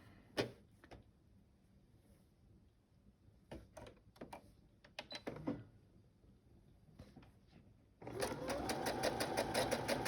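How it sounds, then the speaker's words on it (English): Sewing machine running a straight line stitch through plaid fabric, a fast steady mechanical whirr that starts after scattered handling clicks and taps and runs loud to the end. "we're gonna stitch again, and we're just gonna do a straight line stitch"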